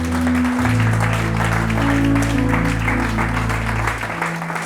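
Church congregation applauding during a worship service, a dense, steady wash of clapping that fills the space from start to finish with sustained musical tones underneath and fading slightly at the end.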